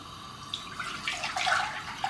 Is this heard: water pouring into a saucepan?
yes